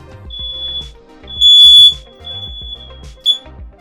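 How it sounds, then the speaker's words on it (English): A smoke-type fire alarm shrills indoors in a high, piercing tone, cutting in loudly in a long burst and then a short chirp over low background clatter, with no talking. "why is the fire alarm going off?"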